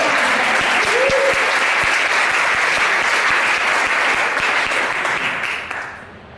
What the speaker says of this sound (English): And make an applause.